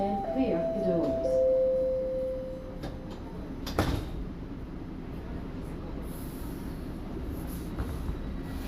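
Door chime on a Toronto subway train on Line 1: a short bright chime tone in the first few seconds, then a clunk as the doors close, over steady train rumble and cabin noise.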